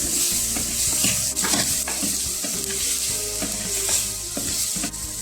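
Tomatoes and green chillies frying in a pan for a Kerala-style coconut fish curry, stirred with repeated scraping strokes over a continuous close sizzle, no voices.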